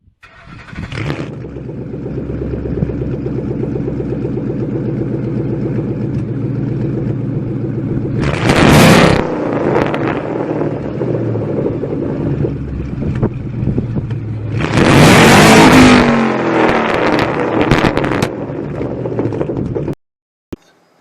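A Ford and Mercury Grand Marquis-style car engine with Jones Flowpack aftermarket mufflers rumbles loudly and deeply at idle, with two sharp throttle revs that swell and fade before the engine cuts off.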